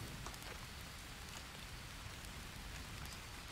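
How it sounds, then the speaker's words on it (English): Steady rain pours down in the survival game Green Hell, a dense, even wash of drops pattering on surfaces with no breaks, filling the scene alone at a moderate level. "oh, it's raining. Of course it's raining."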